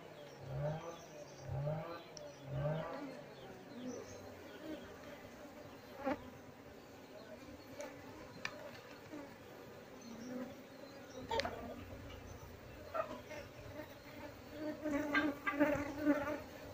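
A honeybee colony hums and buzzes continuously while being smoked before a home honey harvest, with individual bees droning close by and occasional knocks and rustles over the swarm.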